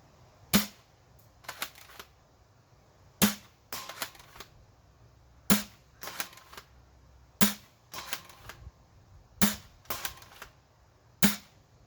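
Sharp airsoft shots from a Ceda Model S airsoft gun ring out singly, with about eight crisp cracks spaced a second or two apart, each followed by a faint clatter, close and loud against a quiet background.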